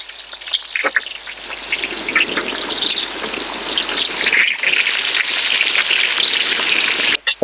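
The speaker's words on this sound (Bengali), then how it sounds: "আলুতে আমরা নুন আর হলুদ মাখিয়ে রেখেছিলাম আলুটা ভেজে নেবো" Potatoes coated with salt and turmeric fry in hot mustard oil, giving a loud, steady crackling sizzle with dense spitting pops that runs throughout without speech.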